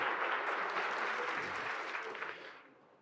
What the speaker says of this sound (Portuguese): Uma salva de palmas para o TASI.